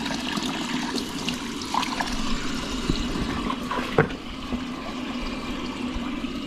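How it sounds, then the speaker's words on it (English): Water drains out of a hydroponic oxygen infuser with Venturi jets, a continuous close rushing and gurgling roar with a few small splashes and a sharper knock midway. "You can hear the water draining out"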